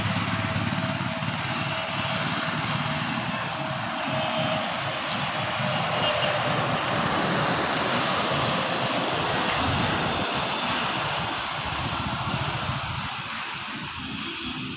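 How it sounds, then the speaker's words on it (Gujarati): A fixed-wing airplane passes low near an airport road on a rainy day, its engine roar steady, loud and broad throughout, with no talking. "એક વિમાન આવી રહ્યું છે"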